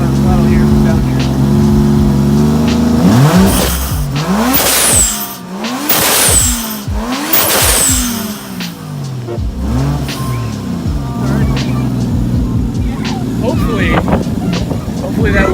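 A Toyota 1JZ engine fitted with a new blow-off valve, revved hard several times with rising and falling engine roars and sharp bursts between them, loud and close, with a voice speaking at times.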